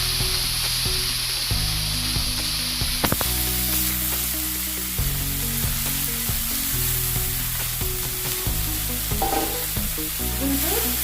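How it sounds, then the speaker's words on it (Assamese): Oil sizzles and crackles steadily in a pan while chopped chukka tenga (sorrel leaves) are stirred and fried, with occasional scraping knocks from a utensil against the pan. "মই ভালদৰে এইখিনি ভাজি ল'ম।"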